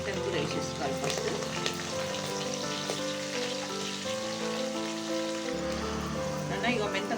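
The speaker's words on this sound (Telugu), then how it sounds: "మెంతం కూర వేసేసుకోవాలి ఫస్ట్." Fenugreek leaves hit hot oil in a pan for a methi and broad bean curry, giving a loud, dense, steady sizzle that crackles like rain throughout, with a tonal hum running underneath.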